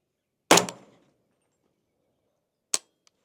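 A Sig Spear LT 300 BLK rifle firing subsonic Hornady Black 208 grain AMAX rounds: one loud, sharp report with a short decaying tail, then silence and a second, shorter crack nearby, followed by a tiny faint click.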